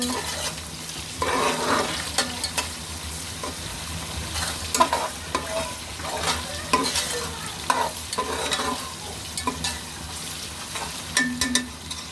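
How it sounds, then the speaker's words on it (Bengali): Onions for biryani sizzle steadily in hot oil while a spoon stirs them with repeated scraping strokes, close and continuous with no talking. "এখন আমি এসে পড়েছি পেঁয়াজটা ভাজার জন্য।"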